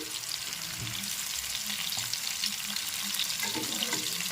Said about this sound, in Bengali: এবার নেড়ে চেড়ে ভেজে নিচ্ছি কপিটা ভেজে নিয়েছি